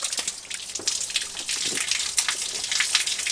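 Spring water pours from a pipe onto grass outdoors, a steady close splashing gush with irregular drips and patters throughout, no talk.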